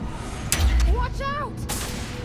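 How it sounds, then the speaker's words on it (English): A grenade blast in the space game Starfield bursts with a sudden heavy boom and rumble, amid combat effects and a voice speaking around it. "Throwing a grenade!"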